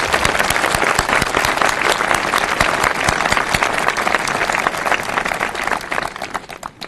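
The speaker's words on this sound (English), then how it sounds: "a round of applause" Loud, dense crowd applause at an outdoor veterans cemetery dedication ceremony, sustained and even for several seconds with many close hands clapping, tapering a little at the end.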